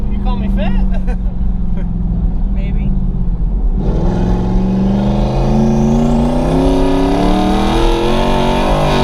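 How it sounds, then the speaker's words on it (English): A turbocharged 800hp Ford Mustang engine revs hard while driving, a loud, sustained roar that climbs in pitch after a brief lull, with people talking over it. "The Pro Charge Mustang."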